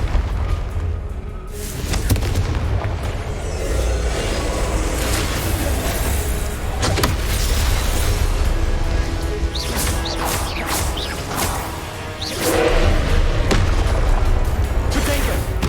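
Spells crackle and detonate during a Hogwarts Legacy duel, with Confringo among them: heavy booms, smashes and sharp magical bursts pile up over a constant roaring rumble from start to finish.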